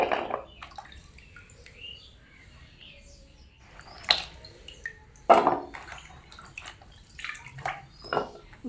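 Chopped potato and jackfruit pieces are washed by hand in water in a kitchen, with intermittent splashes and sloshing bursts alongside faint bird chirps in the background.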